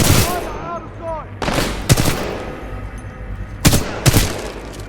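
Gunfire in the Titanfall 2 video game: several loud, close bursts of automatic fire and sharp shot blasts separated by gaps of rumbling battle noise, with brief chirping electronic sounds near the start.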